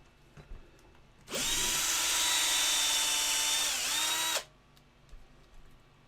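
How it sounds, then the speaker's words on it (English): A power drill bores into the leg of a resin model kit to make a pinning hole, one steady high whine running about three seconds at close range with a slight dip in pitch near the end, quiet room before and after. "It's not very deep yet, so I just want to take a little bit more time drilling"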